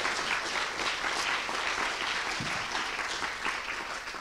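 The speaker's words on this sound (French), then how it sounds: "On l'applaudit très fort." An audience at a live science thesis competition final applauds with steady, dense clapping that fills the room throughout without pause.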